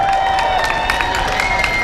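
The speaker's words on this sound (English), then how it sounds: "Come on, give your mayor a louder round of applause than that." Crowd applauding and cheering for the mayor at the launch of the Toronto Caribbean Carnival 2019, a steady wash of clapping with a tonal line running through it, loud and continuous for a couple of seconds.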